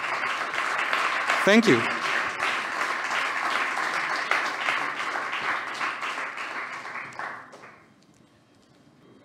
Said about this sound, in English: a big applause for all of our 14 coaches